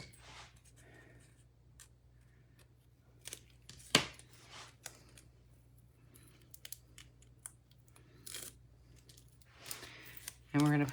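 Scissors cut the excess off a paper strip while making a birdhouse card, a few sharp close snips spaced apart over quiet background handling noise.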